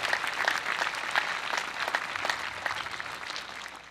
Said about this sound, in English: How about another round of applause for our three speakers?